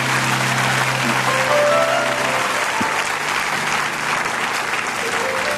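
A church congregation at a French-language worship service applauds with steady, dense clapping that fills the room at a constant level from start to finish.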